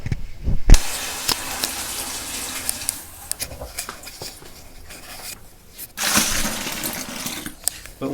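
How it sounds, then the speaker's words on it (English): Cold water topping up a Coopers stout homebrew fermenting bucket to about 23 litres, a broad rushing splash with clunks and bumps throughout and a brief louder burst near the end, no talking. "So we're just going to top that up roughly with cold water to about"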